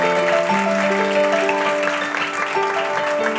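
Loud audience applause at a film festival encounter event, a thick continuous patter of many hands, mixed with sustained tonal music playing underneath.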